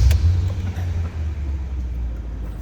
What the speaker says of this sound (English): Everything comes to life when you turn the key.